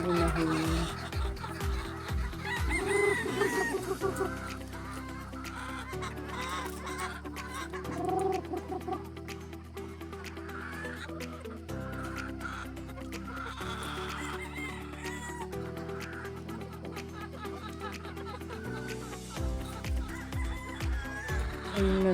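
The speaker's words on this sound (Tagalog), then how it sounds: "Ang dami na yung inahin." Hens cluck and squawk continuously nearby on a gamefowl farm, with a rooster crowing among them over steady rhythmic background music.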